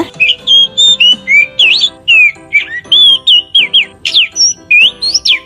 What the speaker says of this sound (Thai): นกเป็นเจ้าของเสียงที่ถูกต้องค่ะ